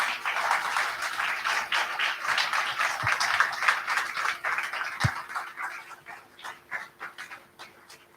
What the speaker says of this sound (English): Yes, welcome. Applause.